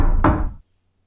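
A single heavy knock on a door, loud and close, with a short dull ring that fades fast into silence.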